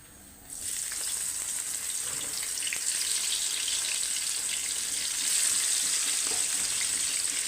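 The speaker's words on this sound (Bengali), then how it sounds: "ফ্রাই প্যানে সরিষার তেল দিয়ে রাখছি আগে থেকে আমি এখন আমি এক এক করে মাছ দেবো" Prawns dropped into hot mustard oil in a frying pan start a loud, steady, crackling sizzle that keeps going without a break, with no talking.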